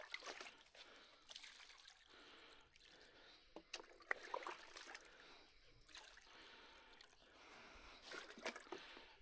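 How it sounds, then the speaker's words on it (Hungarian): Clean water pours and trickles over a skinned rabbit carcass, an uneven splashing stream with brief drips and pauses, fairly quiet and close, with no talking. "Felöntjük újra egy kis tiszta vízzel."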